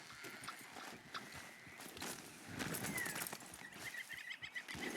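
Horse hooves clip-clop at a walking pace in the Red Dead Redemption 2 video game, a clear rhythmic clatter over a soft outdoor ambience, briefly joined by a faint bird call.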